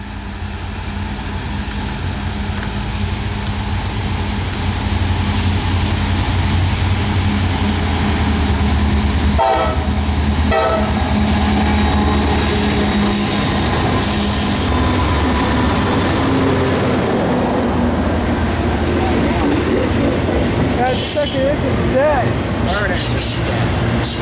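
A freight train rolls past with its locomotive engine, a loud continuous rumble with wheel clatter, a horn blast partway through, and people talking nearby.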